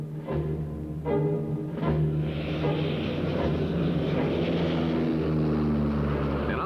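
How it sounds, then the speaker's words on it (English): A propeller-driven observation aircraft carrying an airborne forward controller drones overhead under low cloud, a steady loud engine hum with rising and falling tones that fills the whole stretch. "observation aircraft with an airborne forward controller has been working with 2 Phantom jets under the rapidly lowering cloud cover."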